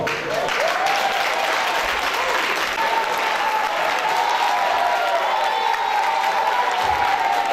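Loud, sustained applause from a crowd at a Guinean community association's bureau inauguration in Washington, DC, steady throughout with a few cheers and a voice rising faintly beneath the clapping.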